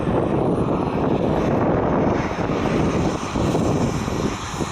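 A large-scale model jet aircraft at the RAF Cosford Large Model Association show gives a loud, steady, close roar from its jet engine as it taxis onto the runway, a continuous rushing drone with no voices.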